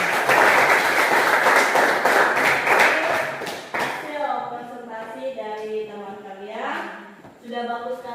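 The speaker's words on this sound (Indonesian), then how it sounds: "tepuk tangan buat hasil presentasi dari teman-teman" Classroom applause for a student presentation, a brief burst of many hands clapping for about four seconds that stops abruptly, followed by a teacher speaking.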